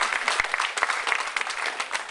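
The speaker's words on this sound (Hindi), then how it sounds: "मैं चाहूंगा सभी लोग इनके लिए तालियां बजाएं, जोरदार ताली होनी चाहिए" A seminar audience applauds loudly at a parenting workshop, a dense, continuous burst of clapping from many hands, close and steady with no talk.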